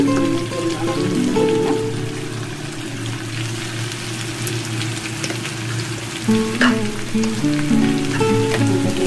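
Ginger and tomato frying in a pan, a steady, close, loud sizzle that holds throughout with small crackles and a brief louder flare near the end.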